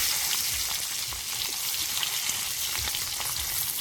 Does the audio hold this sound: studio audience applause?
no